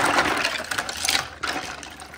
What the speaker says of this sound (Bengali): আর এই যে ব্রাশগুলো যেগুলো এখন আমি ধুয়ে নেবো ভালো করে